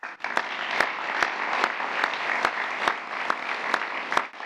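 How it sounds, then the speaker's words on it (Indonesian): Dense, steady audience applause fills the room at a speech event, with a few sharper individual claps popping out over the continuous wash of clapping. "Tepuk tangan."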